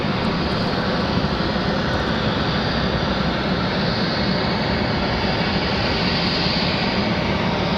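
Jet airliner taking off from runway 23 right at Raleigh-Durham International, a steady, loud, broadband engine roar that holds at constant strength for the whole stretch with no talk.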